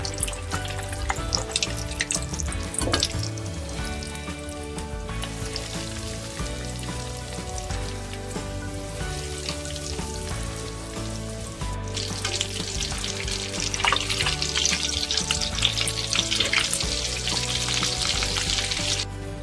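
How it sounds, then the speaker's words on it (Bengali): Homemade chicken chops frying in oil, a steady close sizzle and crackle that carries on without pause and grows a little stronger later, with no talking. "চপগুলি ভালো করে লাল লাল করে ভেজে নেব।"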